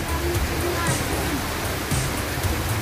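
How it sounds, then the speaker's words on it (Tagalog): Heavy rain pouring steadily outside a small neighborhood sari-sari store, a continuous broadband hiss close by, with people talking and low voices under the downpour. "Lakas ang ulan."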